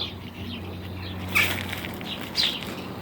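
Sparrows at a water dish under a small walnut tree, with brief flurries of wing flaps and a couple of short bright chirps close by, outdoors over a faint background hum.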